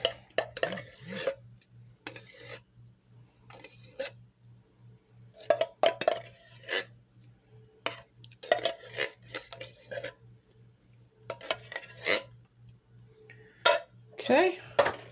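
Biscuit dough being stirred together with blueberry pie filling in a bowl, giving a run of irregular utensil clinks and scrapes against the dish, close and moderately loud, with a low steady hum beneath.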